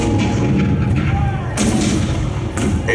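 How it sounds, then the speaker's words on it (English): Cannon fire during a Civil War themed show, heavy booming blasts rolling over a constant loud rumble, with a second sharp report partway through and voices faintly mixed in. "The cannon spoke for war."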